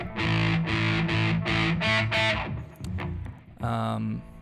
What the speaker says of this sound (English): she's obviously got like some fuzz or distortion going on, and then an octave down pedal